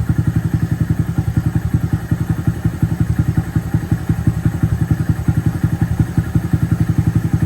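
A Honda Monkey motorcycle engine idles at around 1200 to 1300 RPM, a close, loud, steady fast thumping putter that continues evenly without pause.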